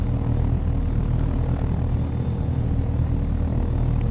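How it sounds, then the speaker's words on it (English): A helicopter in the flight simulator game Take On Helicopters hovers with a loud, continuous rotor thrum and engine rumble, close and steady throughout with no talk. "Okay, I'll do auto over, stabilize my chopper."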